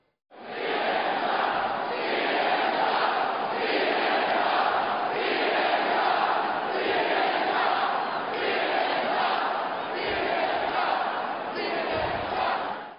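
Large rally crowd at a Trump event chanting continuously and loudly for about twelve seconds, a dense roar of many voices with a steady rhythmic pulse, shouting in unison without a break.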